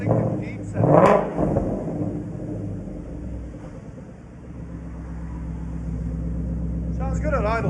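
Ford Mustang GT 5.0L with a KRONA exhaust settles into a steady low burbling idle close by after a brief blip, while people talk over it.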